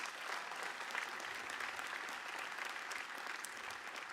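Applause fills a hall from a large commencement audience at Morehouse College, dense and continuous, steady in level and heard from within the crowd, with no voice over it.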